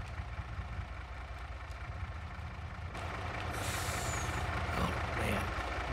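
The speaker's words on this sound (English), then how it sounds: "Love the new Mack trucks here." Mack truck in Farming Simulator 22 idling with a steady low diesel rumble, then a sharp hiss of air brakes releasing partway through and a louder engine and hiss texture continuing to the end.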